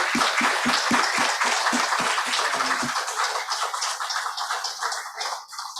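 An audience applauds after a history lecture, a dense crowd of hand claps with several louder nearby claps at the start, then the clapping thins and fades.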